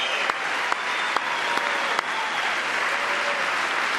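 Applause in Congress, a dense continuous patter of many hands heard somewhat distant, with a few sharper isolated claps standing out, and no speech.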